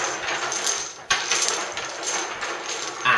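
Dominoes shuffled by hand across a tabletop make a steady, dense clatter of small tiles knocking and sliding together, with a brief pause near the middle before the rattling resumes.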